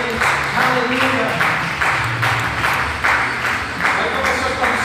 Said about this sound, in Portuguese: dê um forte aplauso a Ele.